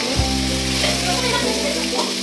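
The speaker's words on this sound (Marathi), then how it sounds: "त्यामध्ये आपण सगळं मिक्स केलेलं मटण, 5 मिनिट ठेवलेलं मटण पातेल्यात टाकलं" Marinated mutton sizzles and fries in hot oil in a cooking pot, giving a loud, steady hiss with a low electrical hum beneath it.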